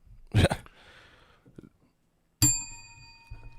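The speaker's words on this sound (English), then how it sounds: "There's no need for that bell. I just felt like hitting it" A bell is struck once on a talk podcast set, giving a bright ringing ding that rings out and fades after a brief earlier clatter and some low noise.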